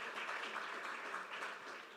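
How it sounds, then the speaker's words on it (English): Faint, even audience applause fills a panel session on EU ocean diplomacy and governance, a continuous distant patter of many hands with no pause. "A warm round of applause, please."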